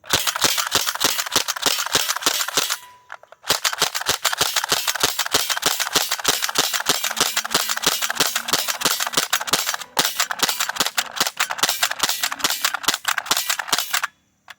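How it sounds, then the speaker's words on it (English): An Umarex MP-5K CO2 BB gun fires rapid bursts of sharp snapping shots, a dense, steady string of close pops with brief pauses near the start and middle, with no talk. "I'm going to shoot this first magazine as fast as I can just to show you guys the recoil action"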